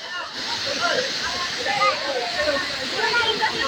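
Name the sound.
Catmon Falls waterfall rushing water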